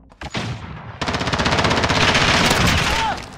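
Rapid automatic gunfire rattles through a video game gunfight, a brief shot early on, then a sustained, dense burst of fire loud and close for about two seconds before cutting off.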